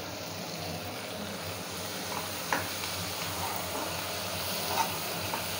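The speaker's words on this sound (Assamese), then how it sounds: "গোটেইকেইপিচ মই ভাজি ল'ম" Whole spices, ginger and crushed garlic frying together in oil in a home kitchen, giving a steady, close sizzle with a few faint stirring clinks throughout.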